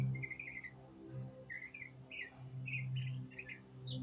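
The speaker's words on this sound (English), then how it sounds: "Bird not too far away." A bird sings fairly close outdoors with a string of short chirpy phrases repeated every half second or so, over a low, steady background hum.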